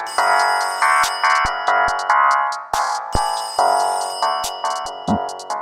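A red telephone rings with a loud electronic ringtone, a bright melodic phrase repeating in quick rhythmic bursts, heard alone without speech.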